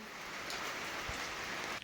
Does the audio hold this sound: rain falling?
yes